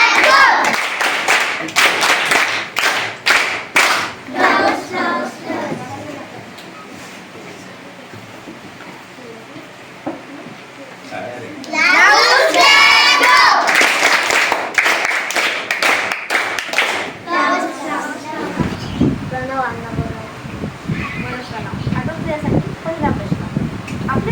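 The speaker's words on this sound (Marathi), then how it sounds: "प्रवीणसाठी सगळ्यांनी टाळ्या वाजवायचा आहे" Schoolchildren at a village primary school quiz clap together for a correct answer, a loud burst of massed applause following an adult's voice, with talking before and after.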